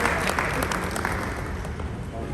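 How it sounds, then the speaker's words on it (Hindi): A crowd at a public gathering in Mirzapur breaks into applause, a dense, even roar of many hands clapping at once that keeps going without a break. "जोरदार तालियां अपने लिए बजाइए आप"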